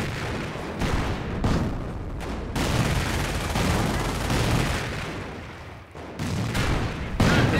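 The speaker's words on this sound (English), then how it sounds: "The Panzer is able to fire more quickly." A German Panzer tank fires rapidly in Company of Heroes, a World War II strategy game, during a battle with British forces: a dense run of booming cannon shots and gunfire with short gaps between them.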